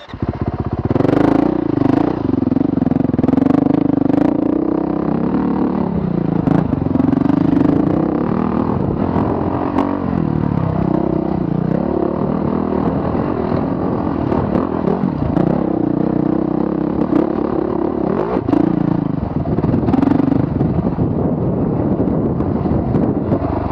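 A Honda CRF450L or CRF450RX dirt bike ridden offroad, its engine droning loud and close throughout with shifting revs, wind buffeting the microphone and occasional clattering.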